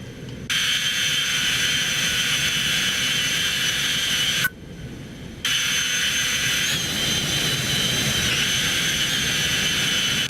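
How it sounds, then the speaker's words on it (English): Cessna Citation X jet engines with a suspected right-side engine failure, a loud steady roar that drops away briefly in the middle before returning at full strength. "Yeah, very strange noises from the engines."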